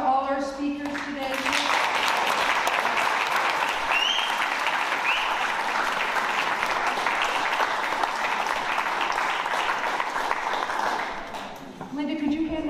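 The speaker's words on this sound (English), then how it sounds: "let's just give a big round of applause to all our speakers today" An indoor audience at a talk on building a democratic movement claps for the speakers, a dense, sustained round of applause that swells for about ten seconds and then tapers off, with brief talk at the start and the end.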